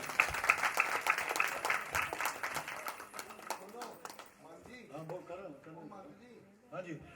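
An audience at a jagaran claps in a lively burst that fades after about four seconds, and then a voice talks over the quieter room.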